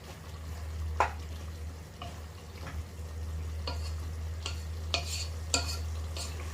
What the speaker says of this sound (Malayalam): എല്ലാം കൂടി ഒന്ന് ഇളക്കി യോജിപ്പിച്ചു കൊടുക്കുകയാണ്